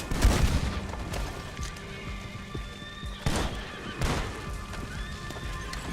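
Horses whinny and gallop as riders arrive in Red Dead Redemption 2, hoofbeats clattering throughout with sharp shot-like cracks punctuating the scene, no talk.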